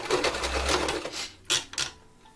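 A sewing machine zigzag-stitching fabric for doll clothes made from socks and ribbon, a fast whirring run followed by two short bursts of stitching, close and moderately loud with no voices.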